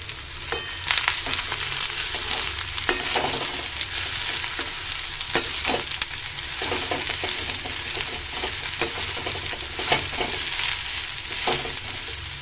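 Ridge gourd pieces frying in a pan with curry leaves, a continuous close, bright sizzle with scattered crackles and pops and a few scraping stirs, steady throughout.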